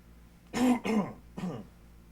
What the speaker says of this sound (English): I had to cough out some of my throat talking for like 3 hours